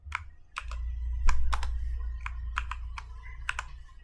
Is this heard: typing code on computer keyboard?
yes